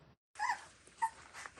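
Three-week-old retriever puppies of a rare breed, part of a litter of eleven, whimper and yip in soft, high little cries, several short squeals following one another close by.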